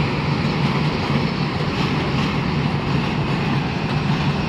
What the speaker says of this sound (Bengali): আন্তনগর ট্রেনটি রংপুর হয়ে লালমনিরহাট অথবা কুড়িগ্রামের দিকে যাচ্ছে